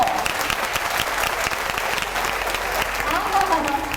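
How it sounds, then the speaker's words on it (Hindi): An audience at a Montessori education workshop claps for themselves, a dense, sustained round of applause throughout with some voices mingled in. "I would like to tell you to clap for yourself"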